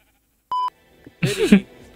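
A Minecraft sheep bleats once, a short wavering close-up bleat that follows a brief electronic beep in otherwise quiet surroundings.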